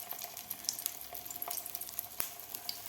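A veg cutlet tikki of peas and spinach shallow-fries in a little oil in a pan, giving a soft, steady sizzle with light crackles and pops close by.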